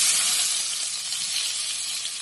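Boiled soybean chunks and potatoes fry in a pan with a soft, even sizzling hiss that stays steady and fairly close, with no talk.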